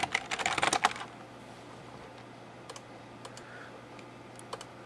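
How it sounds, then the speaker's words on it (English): A quick burst of rapid keyboard typing, then scattered single key clicks in a quiet room. "That's what you get for typing too fast."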